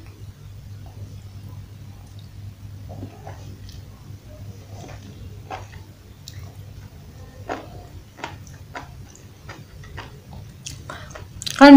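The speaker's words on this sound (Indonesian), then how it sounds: "Kalian bisa dengar nggak kriuk-kriuk dari jamurnya?" Someone bites into and chews enoki mushrooms up close, producing a series of small crisp crunches over a low steady background hum.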